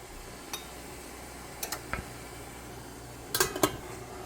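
A lid set onto a stovetop pot holding leaf cactus and carrots: a few faint, scattered metallic clinks and taps, with a brief cluster of clatter near the end over quiet kitchen background.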